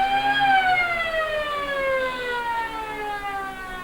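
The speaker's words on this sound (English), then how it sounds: "siren goes to commence the third quarter" A loud siren at a football grand final wails steadily to start the third quarter, its tone sliding slowly downward over a few seconds, with no voices alongside.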